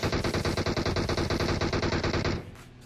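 Rapid, evenly spaced automatic gunfire from blind firing in a shooter video game rattles loudly and close for over two seconds, then stops abruptly and leaves a faint tail.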